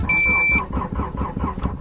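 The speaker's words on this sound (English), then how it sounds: "if I go to start the car first thing in the morning, it usually won't start up right away" A Honda Prelude's starter cranks in the morning while the engine struggles and fails to catch, a rapid rhythmic churning after a short electronic beep, close and fairly loud.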